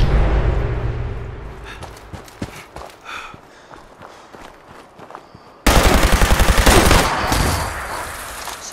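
Automatic laser rifle with a quadrupled fire rate in the Fallout 76 video game, firing rapidly in dense bursts, growing louder and more continuous toward the end, over a busy game soundscape.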